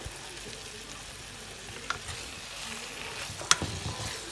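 Soy sauce poured over vegetables sizzling in a hot pan, a steady hiss of frying with a few sharp clinks and spatters, close and fairly loud throughout.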